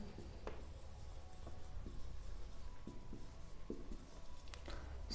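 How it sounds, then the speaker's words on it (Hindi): Marker or chalk writing an equation on a board during a math lesson, a steady soft scratching and rubbing with short tapping strokes, close and quiet throughout with no talk. "मैं यहाँ पर पहले लिख देता हूँ इक्वेशन"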